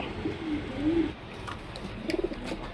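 A male Kasni pigeon gives soft, low cooing calls, two short phrases close by and fairly quiet, against faint background noise.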